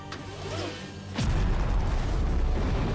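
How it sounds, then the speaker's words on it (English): A heavy cannon's booming blast in an animated show cuts in after a moment, leaving a deep rumbling roar that carries on. "Heavy cannon, open fire!"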